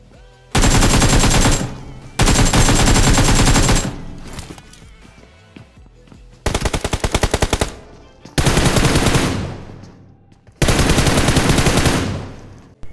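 PUBG Mobile gunfire comes in five loud, close bursts of rapid automatic shots, each lasting one to two seconds, with short quieter gaps between them.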